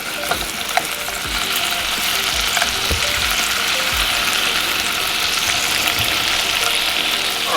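Aidells Cajun-style andouille smoked pork sausages fry loudly in a hot pan, a dense continuous sizzle close by, crackling with small pops and an occasional clack as they are turned, with no speech.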